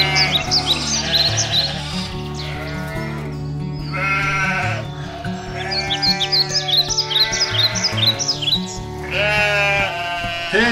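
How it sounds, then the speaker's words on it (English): Lambs and big sheep in Graves Park bleat again and again, some calls high and wavering and others lower, overlapping close by with short pauses between bursts. "Look at the cute little lambs"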